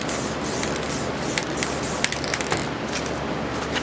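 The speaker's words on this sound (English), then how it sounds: "I'm going to lightly spray one side of it" A spray can of Montana 94 transparent blue paint hisses in short, close bursts, lightly misting one side of a surface, with a continuous airy spray broken by brief puffs and small clicks.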